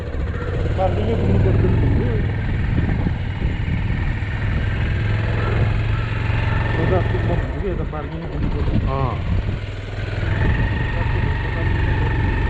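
A motorcycle engine idles steadily close by on the Jomsom to Lo Manthang route in Nepal, a low continuous rumble throughout, with people talking over it.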